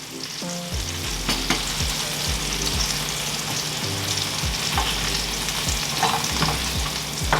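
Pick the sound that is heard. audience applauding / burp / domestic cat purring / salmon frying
salmon frying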